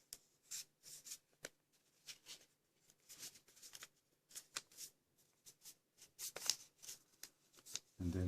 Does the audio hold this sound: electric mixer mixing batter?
no